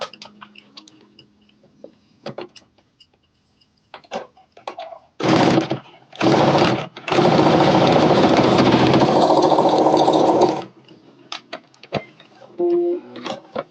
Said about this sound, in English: I'm stitching 5/8 of an inch from the edge, the top of the pocket